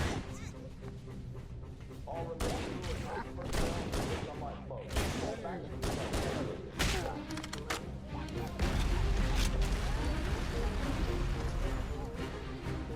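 Gunfire and battle noise from the video game Halo: Combat Evolved Anniversary, aboard the Pillar of Autumn: bursts of rapid shots and impacts run steadily throughout, growing heavier with a deep rumble near the end, with voices mixed in.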